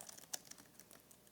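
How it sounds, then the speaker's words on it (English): Faint, quick keystrokes on a computer keyboard, a short scattered run of light clicks with one sharper tap, quiet and close with no talking. "Typing."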